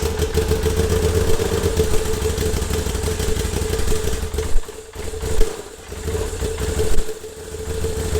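A Moto Guzzi motorcycle engine idles loudly up close with a steady throb, then blips through a few short revs in gear, dipping back between throttle bursts.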